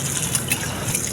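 Running water splashes steadily while dishes are rinsed at home, a continuous close gush with faint clinks in it.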